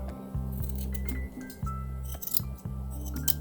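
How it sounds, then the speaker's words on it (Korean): Scissors snip repeatedly at the fluffy looped surface of a handmade punch needle flower coaster, trimming it neat; a run of crisp, close cuts with short pauses between them, no talking. "이 표면을 예쁘게 가위로 다듬어 주는 겁니다."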